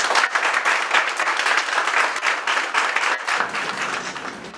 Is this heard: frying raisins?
no